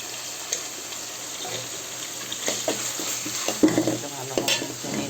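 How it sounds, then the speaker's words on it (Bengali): Garlic and ginger paste with turmeric and chilli powder sizzle in hot oil while being stirred, with clattering spoon scrapes against the pan that grow busier toward the end. "ভালো মতো নেড়ে চেড়ে কষায় নিতে"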